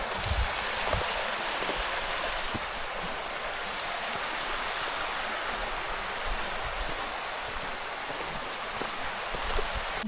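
A river along the Appalachian Trail flows with a steady broadband rush, constant and moderately near, with no voices over it.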